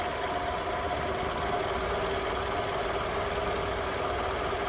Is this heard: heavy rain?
no